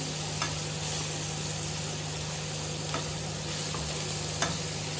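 Paneer frying in a nonstick pan gives a steady close sizzle with faint hum underneath and occasional soft scrapes and taps of a utensil.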